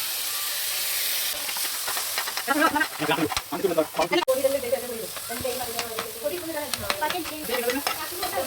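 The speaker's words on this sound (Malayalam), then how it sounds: "ബട്ടർ ഇട്ട് കൊടുത്തതിന് ശേഷം നമ്മുടെ വെജിറ്റബിൾസൊക്കെ ഓരോന്നായിട്ട് നമ്മൾ നന്നായിട്ട് വഴറ്റിയെടുക്കുകയാണ് ചെയ്യുന്നത്" Pav bhaji vegetables with onion are sautéed in butter in a hot pan, giving a steady close sizzle broken by scraping stirs that grow busier partway through.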